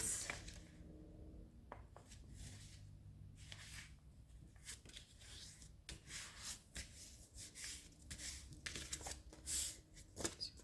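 Cutting a paper template for a journal, with steady close rasping, rubbing strokes and papery rustles in an uneven rhythm, with faint background hum and no talk.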